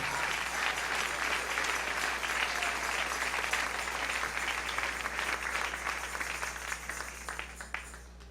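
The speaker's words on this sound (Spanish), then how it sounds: "Dale un aplauso al Rey en esta hermosa y preciosa tarde." Congregation at an afternoon church service applauds in praise, sustained crowd clapping that stays dense and even, then thins toward the end, heard over a low steady hum with no one speaking.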